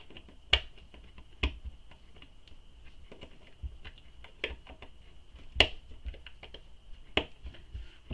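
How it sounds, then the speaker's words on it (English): Sharp, isolated clicks of a magnetic snap being pushed into fabric with a stabilizer and washer and its prongs folded over, about six crisp snaps spaced apart over quiet handling noise. "Push the female end of the magnetic snap in, your stabilizer, washer, and then fold your prongs."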